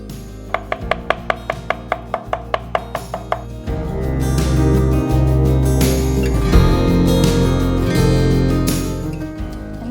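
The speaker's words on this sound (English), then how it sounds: "we will mince the green onions also" A knife minces green onions on a cutting board, starting with about a dozen crisp, evenly spaced chops that then blur into a dense, rapid stream of tapping, loud and close with no talk.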